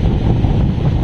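Strong wind roars at Baler Beach by big waves, a loud, close, continuous buffeting rush against the microphone with surf blended underneath.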